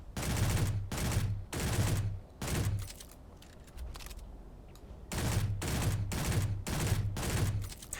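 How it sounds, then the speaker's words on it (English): A fully automatic pistol in Space Engineers fires in short rapid bursts, loud and close, with a quieter pause in the middle before several more quick volleys. "this is a fully automatic pistol"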